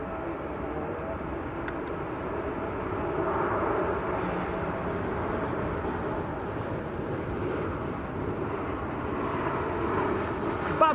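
A Saudi airliner departs Manchester Airport bound for Jeddah, its jet engines producing a sustained, broad roar that holds steady throughout, heard from a distance, with faint wind noise.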